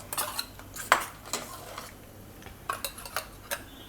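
A utensil stirring mango custard milk in a metal pot gives a few irregular clinks and scrapes against the sides, close and clear, with quiet pauses between strokes.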